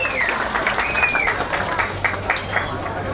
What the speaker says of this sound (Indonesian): Inggih kita ambil tepuk tangan majalis sekan tabuh luar biasa.